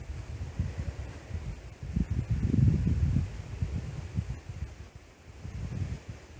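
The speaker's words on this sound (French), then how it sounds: "vous entendez le vent dans les branches." Wind moving through tree branches in a forest, a low steady rushing that swells and gusts in the middle, with no voices.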